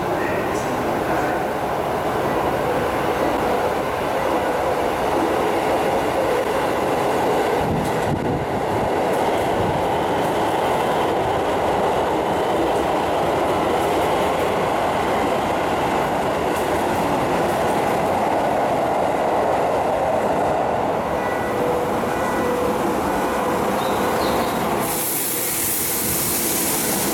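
A Toei Asakusa Line train at underground Ningyocho station, its motor whine echoing off the tunnel walls under a steady rumble and wheel clatter that holds loud throughout, with a sharp change near the end.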